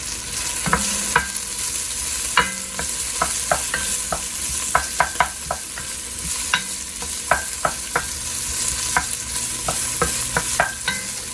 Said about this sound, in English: I'm sautéing my vegetables.